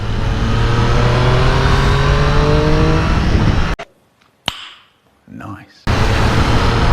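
A Triumph Street Triple R motorcycle idles and rumbles loudly through traffic, its engine note steady and close, then cuts to near silence with a couple of sharp pops and a brief revving surge before the engine drone returns.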